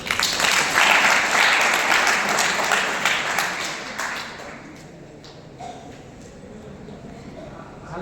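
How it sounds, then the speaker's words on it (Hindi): An indoor audience at a quiz and talk event claps loudly for several seconds, then the applause fades out into quiet room tone. "ताली बजा दे एक बार।"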